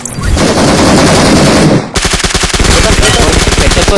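Rapid automatic gunfire from a video game shooter, a sustained dense burst followed after a brief gap by steady repeating shots, loud and close, with voices talking over it.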